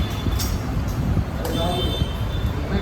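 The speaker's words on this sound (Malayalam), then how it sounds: "ഭയങ്കര സൗണ്ടിൻ്റെ പ്രശ്നങ്ങളുണ്ട്, റോഡ് സൈഡ് ആയതുകൊണ്ട്" Steady roadside traffic near a flyover hums and rumbles under people talking nearby, with occasional louder passing vehicles.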